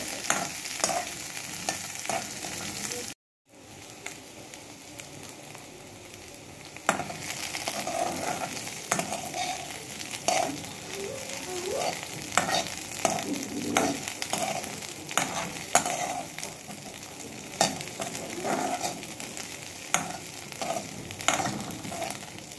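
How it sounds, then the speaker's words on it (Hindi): Green chilli and garlic frying over a very low flame for a chutney, giving a soft, steady sizzle with occasional stirring scrapes and clicks, close and alone after a brief dropout near the start. "आँच को बिल्कुल हल्की रखिएगा और इसको 1 से 2 मिनट हमने फ्राई करना है"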